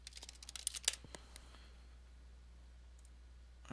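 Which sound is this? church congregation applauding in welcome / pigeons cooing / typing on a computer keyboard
typing on a computer keyboard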